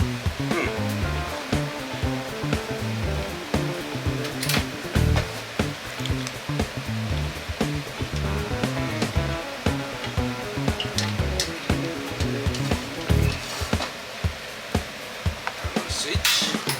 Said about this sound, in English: Just waiting boil up pasta.